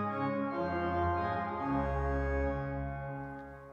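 A Johannus LiVE 3T organ holds sustained, rich chords with a deep bass note entering partway through, all wrapped in heavy church reverb that lets the tones linger and blur.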